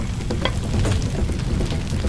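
Fire spreading around a car in Far Cry 2: a close, steady crackling roar with dense popping and hissing, continuous and fairly loud throughout, with no voices.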